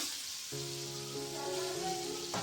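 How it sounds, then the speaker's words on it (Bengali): Potatoes fry with salt and turmeric in hot oil, a steady loud sizzle and hiss that holds throughout, with a faint tonal hum running underneath. "আলুগুলো একটু লবণ হলুদ দিয়ে আমি একই রকম করে ভেজে নেব"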